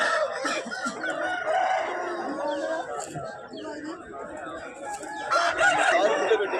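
Roosters crow and hens cluck amid a busy crowd at a weekly country-chicken market in Nallapadu, with people talking throughout; a louder crow rises near the end.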